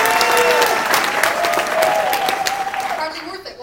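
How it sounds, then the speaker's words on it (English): A live audience at a Bay Area Chamber of Commerce event with a magician claps and cheers. The applause is loud and dense, holds steady, then thins out and fades near the end while a voice cuts in. "could I please hear that rapturous applause right now?"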